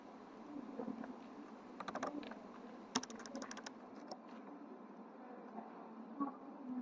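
Text is typed on a computer keyboard into an app's text field. A cluster of sharp keystrokes sits in the middle over a steady background hiss, with a few scattered clicks afterward.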